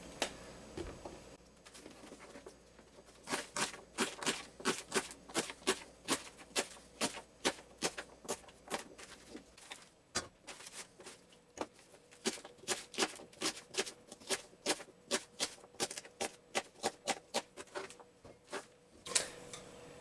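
Rapid knife strokes chopping stringy rhubarb stalks on a cutting board, a long run of sharp, closely spaced chops that speed up in bursts and pause briefly, close and clear with no talking.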